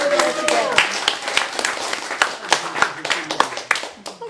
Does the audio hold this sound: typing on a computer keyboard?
no